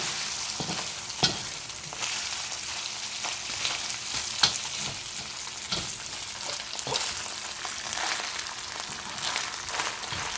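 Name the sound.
boiled rice with onions frying dry in oil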